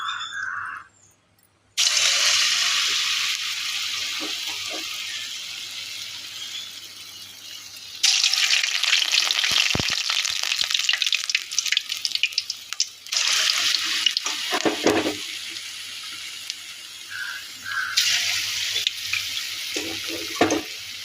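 A kitchen tap runs loudly in a steady stream while hands are wetted for shaping bonda dough, the flow stopping briefly and restarting in several long bursts, with no talking over it.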